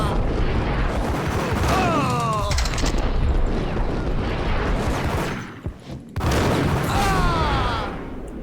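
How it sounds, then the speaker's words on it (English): Rapid, loud gunfire in Max Payne rattles on almost nonstop, with bullets striking a wall, pausing briefly midway before another heavy burst. A voice speaks faintly beneath the shooting. "Half of the bullets hit the wall there."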